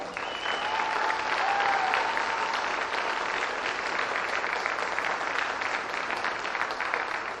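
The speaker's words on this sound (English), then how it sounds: "let's give them one more round of applause" A high school audience gives another round of applause for senior athletes at a signing day ceremony. Steady crowd clapping continues evenly for seven seconds, with a few brief whistles near the start.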